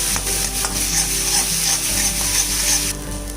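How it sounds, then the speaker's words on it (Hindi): Onion-tomato paste frying in a pan over a medium flame for an egg curry, giving a steady, close sizzle with light stirring scrapes and no voices. "ये अभी मीडियम फ्लेम में थोड़ा फ्राई करना है अच्छे से"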